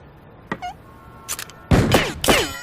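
Gunshots fired up through an apartment ceiling by a neighbor at night in a cartoon scene, a few sharp loud cracks, the last two heavy and booming with echoing tails, separated by short quiet gaps.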